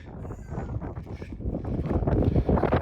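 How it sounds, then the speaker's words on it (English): Wind buffeting a microphone on a hilltop in Goyt Valley, low rumbling gusts that swell and grow louder toward the end, close and rough. "It's windy."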